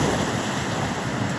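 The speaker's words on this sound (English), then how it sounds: "The water is crashing in there" Ocean surf crashes steadily onto a beach shore, a continuous loud hiss and rumble of breaking waves mixed with gusting wind buffeting the microphone.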